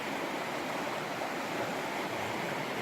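A river flows beside a wild campsite near Glenfinnan in Scotland, a close and constant watery hiss with no breaks and no talking.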